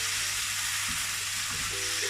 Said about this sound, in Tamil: மஞ்சள் போட்டு இனி இதை கொட்டி பிரட்டுவோம்